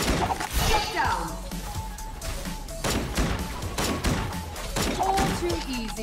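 Rapid gunfire crackles almost continuously during combat in the Legend of Ace video game, with dense shots and impacts mixed among game effects and a busy, loud battle backdrop.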